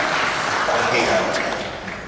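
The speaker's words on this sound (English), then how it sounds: "I want you to give David Grensel a big round of applause" A big round of applause from a convention audience at a closing ceremony, a dense wash of clapping that stays full and steady, with crowd voices blended in beneath it.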